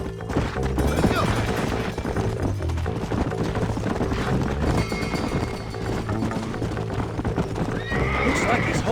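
Several horses gallop with steady clip-clopping hooves in the Western video game Red Dead Redemption, with loud whinnies breaking through over an ongoing musical score and game effects; characters talk along the way.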